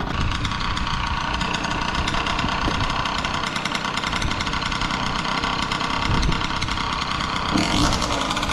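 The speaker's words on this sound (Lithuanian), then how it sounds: "Šito variklis gražiau dirbo negu to Rocketo" A Yamaha Neos scooter engine idles close by with a continuous buzzing, slightly rattly chug that holds steady throughout.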